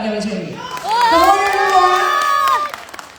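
At a song release event, a crowd claps and cheers loudly over a drawn-out sung or shouted voice, with whoops and children's shouts rising, before the noise fades into scattered claps.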